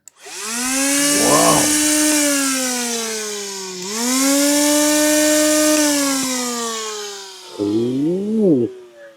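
Cordless power tool running on a lithium battery, a loud close whine revving up and down in long sustained bursts with a brief stop midway and a sputtering change at the end.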